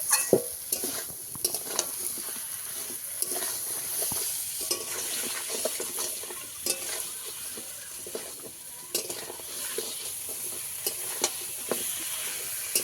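Crab stir-fried in a spiced gravy, with a steady loud sizzle and frequent scraping, clacking strokes of a spatula against the pan, heard alone without talk.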